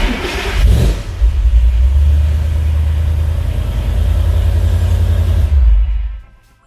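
An S197 car engine, partway through an electric power steering conversion, starts with a loud close rumble, then revs and runs steadily before cutting off and fading at the end.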